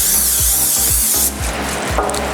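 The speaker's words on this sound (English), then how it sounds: "I'm just going to grease the bottom of the pan with some Pam and not the sides" Pam cooking spray greasing the bottom of a cake pan for a passion fruit tres leches cake: a close, steady aerosol hiss lasting just over a second, then stopping, with faint rhythmic background thumps.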